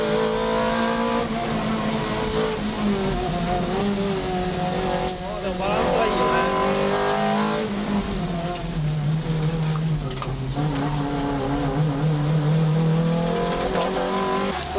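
A Toyota Celica with its 190-horsepower 2ZZ-GE engine laps a race track, the engine revving hard and climbing through the gears with tire squeal, loud and close throughout, with talk over it.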